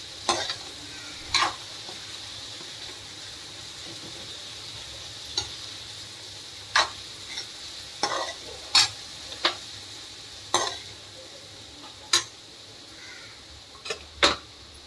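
A spoon stirring a dal mixture in a pan, with soft steady scraping and occasional sharp clinks against the metal over a faint background hiss; no talking.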